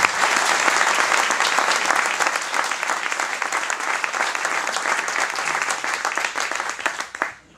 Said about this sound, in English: Please, a round of applause for Bob